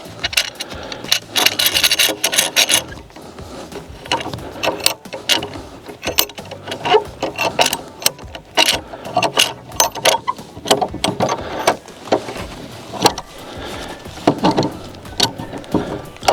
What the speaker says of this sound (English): Take my clamp, this is just a regular wood C-clamp.